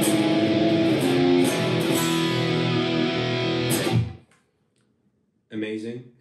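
A thick, heavily distorted high-gain electric guitar chord through a Neural DSP Quad Cortex stereo heavy preset rings loud and sustained for about four seconds, cuts to silence, then a short distorted burst returns.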